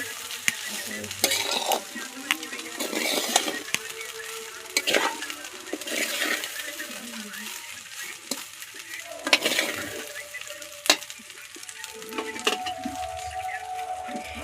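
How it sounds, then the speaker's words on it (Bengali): Cooked rice frying and being stirred in white oil with bay leaf, cashews and raisins, a steady close sizzle broken by scraping stirs of a spoon through the pan, with no talking. "সাদা তেলের উপর এবার ভাতগুলো আমরা দিয়ে নিলাম। তেজপাতা দিয়েছি, কাজু কিশমিশ দিয়েছি, ভালো করে ভেজে নিচ্ছি।"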